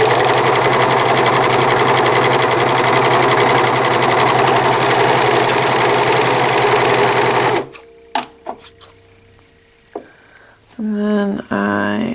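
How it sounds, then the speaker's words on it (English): A serger runs fast and continuously through folded fabric pieces, a loud mechanical whir, then stops abruptly, leaving a few clicks and soft handling noises. "I've brought those folded pieces over to my serger"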